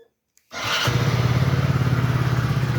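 A Hero HF Deluxe BS6 motorcycle engine catches after a brief silence and settles into a loud, steady, close idle with an even rapid pulsing thump.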